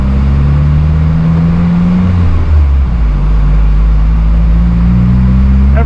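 A Subaru WRX (FA24) fitted with a Blouch turbo, run cold on a dyno for a first pull, droning loudly and steadily with a strong low engine hum and a brief dip midway before holding on again.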